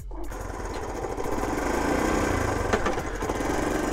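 A 1972 Honda CT90 motorcycle engine fires after a kick start and settles into a loud, close, steady rattling idle that holds for several seconds.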